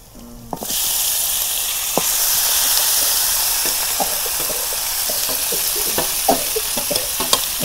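Spiced meat dropped into a pan of browned onions bursts into a loud, sustained sizzle and hiss up close, with scattered clicks and scrapes of stirring throughout.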